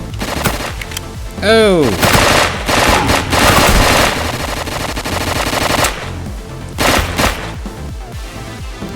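Rapid Uzi gunfire rattles in the Dragonfly boomer-shooter video game, dense automatic bursts running almost continuously with a few pauses, and a man gives a brief exclamation over it.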